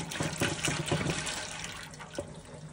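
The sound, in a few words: water draining through cleaned Viessmann boiler heat exchanger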